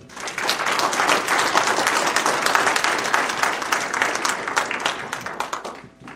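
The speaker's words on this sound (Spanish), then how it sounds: "Fuerte aplauso al Señor" A church congregation claps loudly in praise to the Lord, dense sustained applause from many people that swells quickly, holds for several seconds, then thins into scattered claps near the end.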